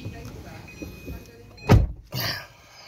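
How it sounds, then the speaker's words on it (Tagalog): The door of a Toyota Raize eCVT swings shut with a single solid, close thunk, followed by a softer rustling thump as the cabin settles into quiet. "Sarado na natin yung pinto."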